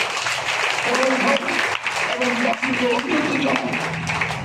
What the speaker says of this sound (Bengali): আমরা করতালি দিয়ে সবাই পক্ষ থেকে